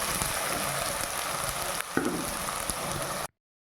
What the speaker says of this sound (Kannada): ಒಗ್ಗರಣೆಗೆ ಮಸಾಲೆ ಹಾಕ್ಕೊಂಡಾಗ ಚೆನ್ನಾಗಿ ಸ್ವಲ್ಪ ಹಸಿ ವಾಸನೆ ಹೋಗೋ ತನಕ ಫ್ರೈ ಮಾಡಿಕೊಂಡು